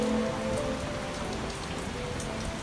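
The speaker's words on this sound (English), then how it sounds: "Thunder, lightning, wind shifts, driving rain." Driving rain at sea during a sailing voyage, a steady loud hiss of heavy drops pattering on the boat's surfaces, with a faint low tone fading early on.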